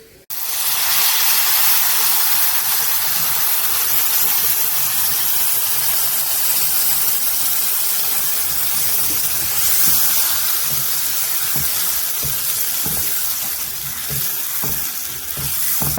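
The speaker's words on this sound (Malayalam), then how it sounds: "1/2 ലിറ്റർ വിനാഗിരി ഒഴിച്ചു കൊടുക്കാം." Vinegar hits hot beef pickle gravy in a pan and sets off a loud, sustained hiss of sizzling and steam. It starts abruptly and stays dense and close for the whole stretch, with no speech.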